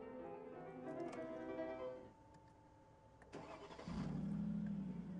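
A McLaren SLR Roadster turns over with a starter whir, goes quiet briefly, then its engine catches and settles into a deep, steady idle, close and alone.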